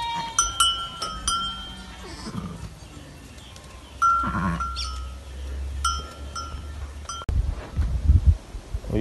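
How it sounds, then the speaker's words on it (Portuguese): A ewe and her three newborn lambs, two females and a male, in a flock at Xique Xique, Monteiro, Paraíba, bleat in short repeated calls near and far, with a cowbell clanking among them. "Aí, três borreguinhos. Duas fêmeas e um macho."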